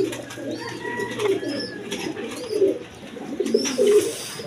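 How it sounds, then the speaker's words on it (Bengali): A pair of Dauga pigeons coos in soft, repeated low phrases, close by and fairly clear, with faint background noise and no talk. "এটা ডাউগা কবুতর।"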